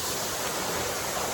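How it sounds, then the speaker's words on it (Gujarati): Roadside waterfall in the Dang forest near a Mahadev temple, a steady broadband roar of falling water filling the whole moment at close range, with no pauses. "મારો અવાજ તો આવતો નહીં હોય, ધોધનો જ અવાજ એટલો છે"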